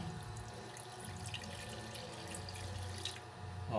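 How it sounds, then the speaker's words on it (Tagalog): A little water is poured into a cooking pot, a continuous soft trickling stream that runs steadily for a few seconds at close range, with no talk. "So, lalagyan natin ng konting tubig."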